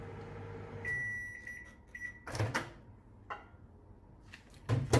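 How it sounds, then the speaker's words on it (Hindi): A microwave oven heats butter in a small bowl, its high beeps sounding in a short series before clunks and rattles of the door and bowl; no talk. "इसको मैं अभी 15 सेकंड के लिए इसको माइक्रोवेव करूँगा"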